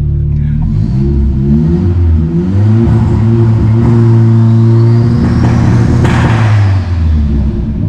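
A Ford Escort with a turbocharged engine, originally 78 hp and still running on gasoline, revs loudly up close, its deep engine note rising and falling throughout, with a faint rising whine of the turbo spooling.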